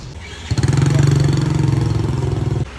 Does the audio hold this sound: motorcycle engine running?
yes